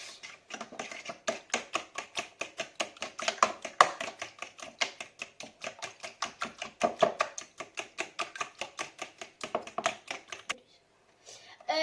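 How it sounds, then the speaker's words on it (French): A date cake batter is beaten briskly in a bowl with a whisk or spoon, making a steady rapid train of sharp tapping strokes, close and fairly loud, before stopping near the end. "Et maintenant, on va mélanger."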